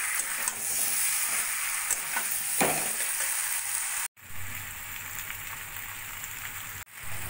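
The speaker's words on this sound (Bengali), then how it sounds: "এবার দিয়ে দেবো আগে থেকে ভেজে রাখা আলুগুলো। মশলার সঙ্গে ভালো করে মিশিয়ে নেব।" Pre-fried potatoes being stirred into a sizzling spice masala for mati aloo curry, a continuous crackling fry with soft scraping strokes, briefly cut off twice.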